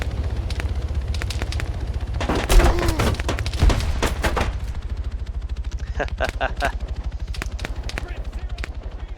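Arma 3 battle on Stratis: repeated bursts of gunfire crack over a constant low rumble, with a heavier blast-like burst early on and rapid volleys later, loud and close.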